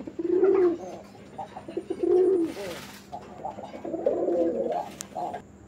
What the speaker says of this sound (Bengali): এখানে আরও একটা সিঙ্গেল কবুতর আছে